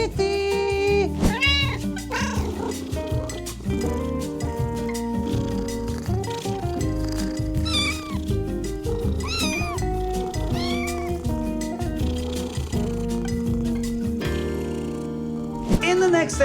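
A cat meows repeatedly, several drawn-out cries close by, mixed with rustling and a person's voice calling at times.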